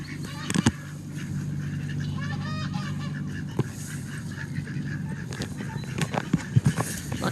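Ducks and geese honking and quacking on a farm, several loud calls close by in irregular bursts over a steady farmyard background, with a little faint talk.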